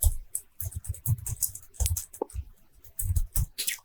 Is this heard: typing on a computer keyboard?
yes